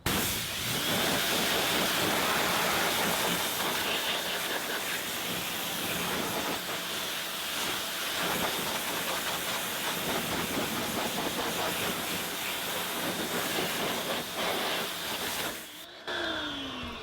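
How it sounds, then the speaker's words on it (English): Water spray rinses bugs off car paint, a steady broadband hiss running nearly unbroken and fairly loud throughout, with no talking. "You're gonna rinse it down first."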